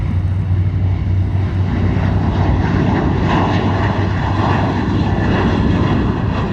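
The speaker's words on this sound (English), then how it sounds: "That's a A321 flying to San Diego." An Airbus A321 jet airliner taking off from Charlotte airport gives a loud, continuous, close engine roar with deep rumble and wind buffeting, holding steady without any talk.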